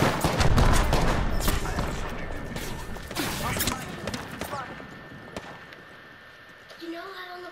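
Gunfire in an Apex Legends match, a dense run of loud overlapping shots crackling for several seconds before thinning out, with a few sparse bursts toward the end.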